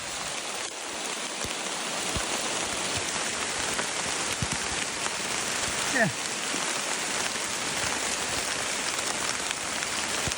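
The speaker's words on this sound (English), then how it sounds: "I know you can hear the rain coming." Steady, dense rain pours over a Costa Rican forest canopy, a continuous close wash of drops hitting leaves. A single brief word is spoken partway through.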